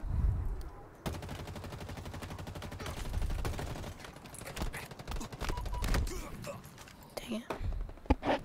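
Rapid gunfire in a Halo game: dense, repeated automatic bursts with sharp shots scattered through, mixed under quiet talk from players.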